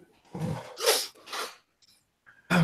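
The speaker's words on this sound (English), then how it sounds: "Sneeze." A short sneeze with a sharp intake of breath and a burst of air, followed by a snort or sniff, close and fairly loud.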